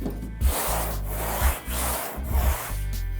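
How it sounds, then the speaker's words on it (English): Broad, rough scraping strokes of a sanding block rubbing back and forth over a car body panel, steady and close, with a few heavier passes. "So this is called block sanding."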